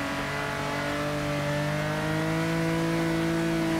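A car engine in the Forza Motorsport 6 racing game holds a steady, loud mid-pitched drone with strong low-end harmonics that climb slowly, sustained throughout with no talking.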